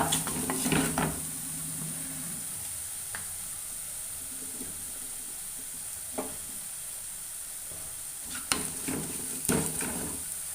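Kashmiri chilli sautéing in a pan for a Kerala-style Kanambu fish curry, a steady close sizzle of frying with a spatula scraping and stirring now and then, sharper clinks near the end.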